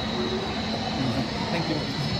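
A played-back airplane sound effect for a plane on a model airport layout gives a steady, broad jet-like rush with a thin high whine. It is moderately loud and continuous for a couple of seconds.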